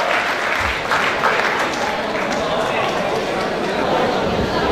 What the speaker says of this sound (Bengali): জোরে করতালির মাধ্যমে শরীফ আব্দুল্লাহ ভাইয়াকে মঞ্চে আনবেন।